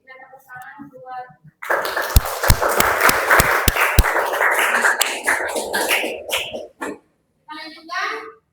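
A classroom of students bursts into applause after a group discussion, several seconds of dense clapping with a few sharp louder claps, framed by a teacher's voice before and after.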